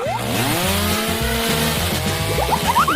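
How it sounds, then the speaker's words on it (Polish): A loud motorized saw buzzes steadily, its pitch wavering and rising in bursts, with a springy cartoonish boing near the end. "A, to piła!"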